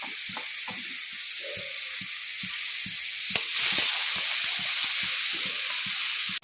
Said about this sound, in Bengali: তারপর আমি এই ফুলকপিগুলো ঘিয়ের মধ্যে ছেড়ে দিলাম, ছেড়ে এখন নাড়াচাড়া করতে থাকবো।